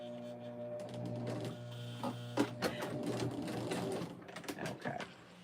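Sewing machine with a dull needle stitching through heavy fabric while making key fobs and lanyards: a steady mechanical hum with rapid rattling stitch bursts and a few louder knocks, close and continuous.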